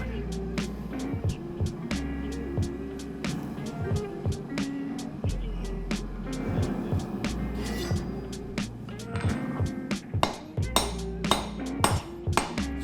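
A hammer forging the point of a kukri blade, with repeated sharp metallic strikes at an uneven pace that grow louder and more frequent near the end, over a steady low forge hum.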